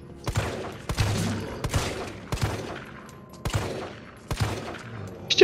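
Gunfire in the Resident Evil 3 Remake video game: sharp, separate shots fire in an uneven rhythm about once a second, each one ringing out and fading before the next, loud and clear with no voices.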